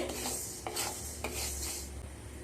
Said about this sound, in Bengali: খুন্তিটাকে অনবরত নাড়তে হবে তা না হলে কিন্তু ডাল পুড়ে যাবে